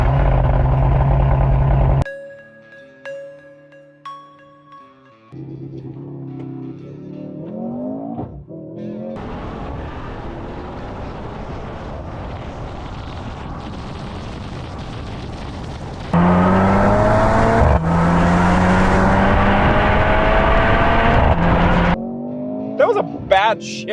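Two SUVs, a 2024 Genesis GV70 3.5T and a 2024 Mercedes GLC43 AMG, launch under launch control: engines rev and surge loudly, rising through gears with a shift break, after a brief stretch of talk and beeping chimes at the start.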